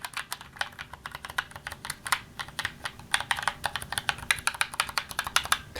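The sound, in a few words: mechanical keyboard switches clicking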